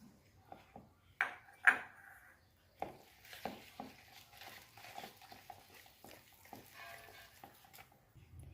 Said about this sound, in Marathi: अशा प्रकारे सर्व दूध 1 कप मिक्स करूया।